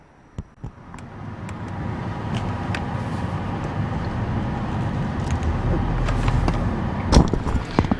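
A car rolls into a Sonic drive-in from the Mattawoman Drive access point and turns right, its steady engine and road noise continuous and fairly close, with a few brief knocks and a louder bump near the end.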